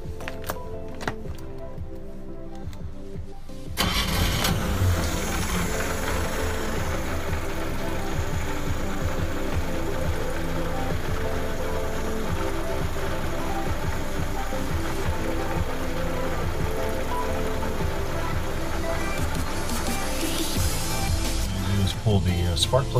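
A boat engine being winterized is cranked and then runs at a steady, loud, rattling idle close by after a quieter start, continuing throughout with a knocking rhythm.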